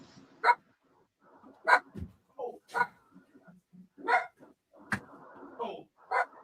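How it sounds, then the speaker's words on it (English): Several dogs barking in sharp, scattered bursts, some nearer and louder, others yipping, with short gaps between barks and a little background chatter. "I hear the dogs. Sound like they about to grab some ankles."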